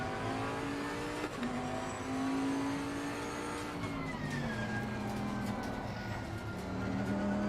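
Bentley Continental GT3 race car engine in Assetto Corsa Competizione at Zandvoort, a steady loud drone revving and shifting pitch as the car accelerates through gears, continuous and with no talk.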